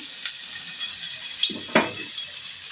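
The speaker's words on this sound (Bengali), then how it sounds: "এবার আমি এটা ফ্রাই করবো হালকা করে" Marinated chicken tikka fries in oil in a pan over very low gas, giving a steady soft hiss and sizzle with a few brief clattering scrapes near the middle, close and fairly quiet.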